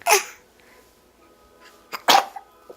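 Two short coughing bursts from an infant, one at the start and another near the end, separated by a quiet pause with faint breathing.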